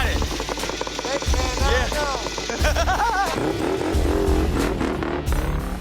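A Harley motorcycle engine revs and idles in bursts, throttle rising and falling in pulses over low rumble, with a voice talking over it.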